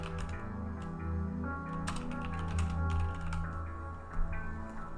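Typing on a computer keyboard while searching, heard as irregular light key clicks over a low steady hum, fairly quiet with no talk.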